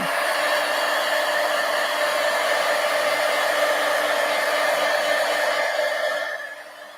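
A hair dryer blows loud and steady across a watercolor painting for several seconds, then its whine drops away as it is switched off near the end.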